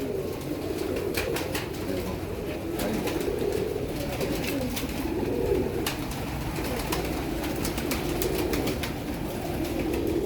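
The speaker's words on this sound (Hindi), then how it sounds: "ये उड़ते हुए कबूतर हैं" Red- and black-pearled flying pigeons coo in steady rolling waves throughout, close and continuous, with soft background clatter and occasional wing or perch noises.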